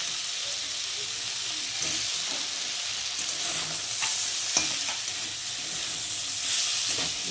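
Spice paste and vegetables sautéing in a pan, a dense continuous sizzle with soft stirring scrapes throughout, close and alone without talk.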